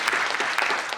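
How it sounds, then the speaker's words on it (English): A conference audience gives sustained, dense applause, many hands clapping close and evenly for a brief moment, with no talking over it. "So give them a round of applause."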